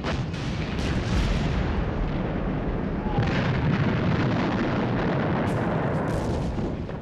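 World War I artillery bombardment, a dense and continuous barrage of heavy booms and rumbling detonations, loud and close, with some sharper bursts among them.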